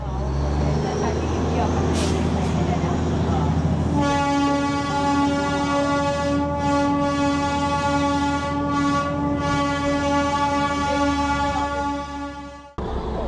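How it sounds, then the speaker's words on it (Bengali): Darjeeling toy train pulling into Batasia Loop, its loud, sustained horn blaring for many seconds over the rumble of the engine and carriages, then cutting off abruptly at the end. "ট্রেন এসে দাঁড়ালো বাতাসিয়া লুপে"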